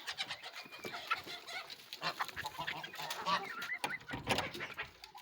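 Ducks and other poultry in a farm enclosure on a rainy winter day quack and cluck in a busy, overlapping chorus close by, with scattered calls throughout and no talking.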